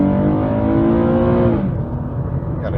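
An Infiniti G37 accelerates while merging onto a road, its engine a loud, close, steady drone whose pitch climbs before easing off as the throttle settles.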